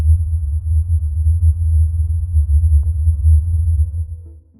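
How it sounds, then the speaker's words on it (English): A steady, deep low-pitched hum, recorded as the mysterious Taos hum, throbs continuously and loudly in the low range with a slight pulsing texture before fading at the end. "suddenly you hear a strange low hum in the background"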